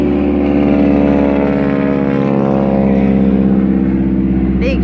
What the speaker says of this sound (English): big yellow plane just flew over my head. Well, it's not a big plane, it's a biplane